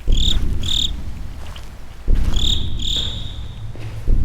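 Crickets chirp in the horror game Slender: The Arrival, giving sharp, high, pulsing trills in short repeated bursts over a rumbling low night ambience, close and prominent.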